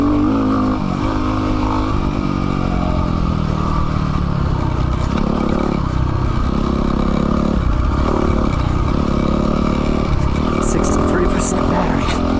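Yamaha WR250R dual-sport motorcycle being ridden on a commute: a steady, loud engine drone with gear shifts and rising revs, plus wind buffeting throughout, heard close up. A voice is present, but the clip contains no words.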